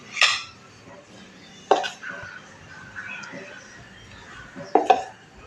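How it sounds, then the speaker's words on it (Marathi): Metal idli moulds being handled and filled with rice-and-lentil batter, with three distinct sharp metallic clinks and clatters spaced through a quiet kitchen and soft background murmur. "साचे भरून घेऊया आणि इडली वाफवून घेऊया."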